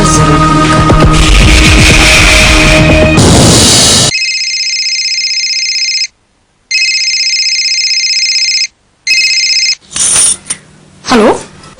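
A phone rings in a Hindi TV drama, its steady electronic two-tone trill repeating in bursts with short gaps, loud and close, after a stretch of music and noise.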